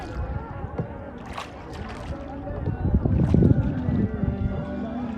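A rowing boat glides across a wetland lake, with soft paddle splashes and water sloshing building toward the end, under light wind and faint murmuring voices.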